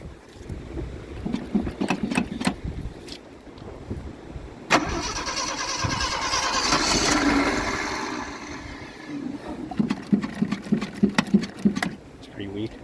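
An engine is cranked over in an attempt to start it, a sustained churning whir in the middle of the clip, with people talking before and after.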